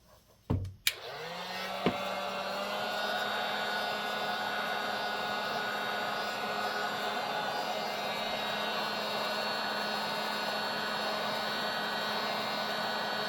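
A heat gun switches on with a brief click and then blows steadily and loudly, heating a plastic part of a 1992 Toro Recycler lawn mower held in a vise; the whooshing hum carries on alone without talk.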